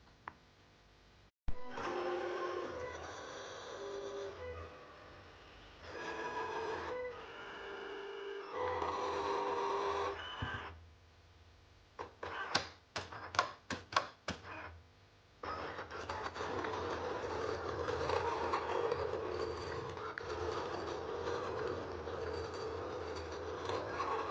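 A cutting machine slicing through a mat gives bursts of whirring, scraping motor movement broken by short pauses and a quick run of sharp clicks, then settles into a steady mechanical rasp, moderately close and with no voices.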